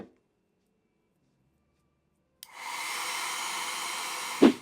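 A hair blow dryer switches on abruptly after a quiet stretch and keeps a steady, close airy whir over a blonde glueless lace wig, with a brief louder burst near the end.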